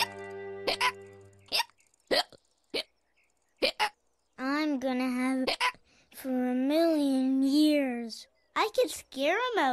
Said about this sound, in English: Oh, those hiccups starting to get you down.